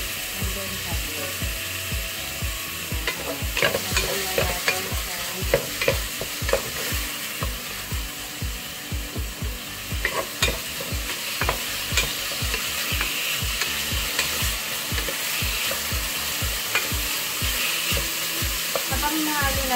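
Pork and onion sizzle steadily in a hot pan for a Filipino squash and coconut cream dish. Repeated scraping strokes of a spoon stirring the pan run through the whole clip, close up and fairly loud.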